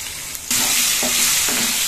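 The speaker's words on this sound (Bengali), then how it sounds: "একটু ভালো মতন ভেজে নিচ্ছি" Potatoes with turmeric and salt hit hot oil in a pan, bursting into a loud, bright sizzle that holds steady, with a few soft stirring bumps in between.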